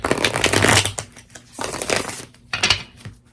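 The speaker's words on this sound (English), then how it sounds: "let me just get your other cards out as well" Tarot cards are shuffled and handled up close in three bursts of riffling and flicking, separated by short quiet gaps with a faint low hum.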